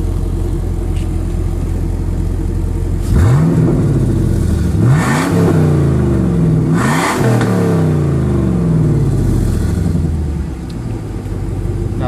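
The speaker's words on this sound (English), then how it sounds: "Rev it up." A 1999 Chevrolet Camaro Z28 with a 5.7L LS1 V8, stock apart from a cold air intake and a Spintech muffler, idles loudly up close, then revs sharply three times, each roar climbing and falling before it settles back to a rumbling idle.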